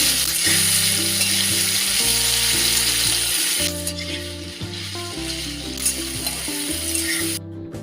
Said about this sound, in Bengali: আমি তেলের মধ্যে দিয়েছি আলু পেঁয়াজ টমেটো এগুলোকে ভালো করে ভেজে নিই